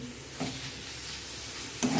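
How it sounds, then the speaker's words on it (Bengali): Prawns and spices sizzle steadily in a hot pan for a coconut prawn dish, with a couple of brief scraping stirs cutting through the continuous frying hiss. "এইভাবে আমি এবার ঢাকা দিয়ে দিয়ে কষাতে থাকবো।"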